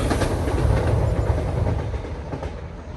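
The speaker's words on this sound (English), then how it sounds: "That's our train coming back south now." A train rumbles past close by near Filey and Hunmanby, a steady heavy roar with faint rhythmic clatter of wheels, slowly easing off toward the end.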